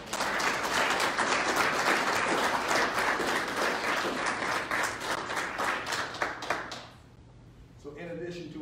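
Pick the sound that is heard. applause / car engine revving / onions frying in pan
applause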